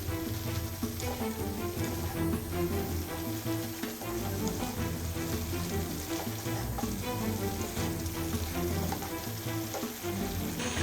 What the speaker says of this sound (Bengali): এবার আমি ভালো করে সবগুলি শাক আর সবজি একসাথে মিশিয়ে দিব।